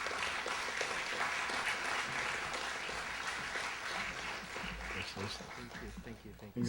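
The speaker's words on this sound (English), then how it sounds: "let's give them a big round of applause" Steady, full applause fills an awards recognition ceremony for the County of Los Angeles and holds at an even level throughout, with faint voices mixed into the clapping.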